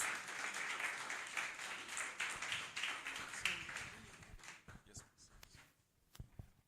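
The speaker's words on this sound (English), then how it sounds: "Please give him a rousing applause." An audience in Lagos, Nigeria applauds to welcome Dr. Emmanuel Taffa, a steady wash of clapping that is fairly faint and distant and fades out over several seconds, leaving a few isolated claps.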